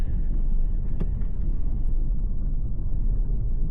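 A Mercedes-AMG C43 with all-wheel drive creeping slowly along a snowy side road, a steady low engine and road rumble filling the cabin, with one faint click near the start.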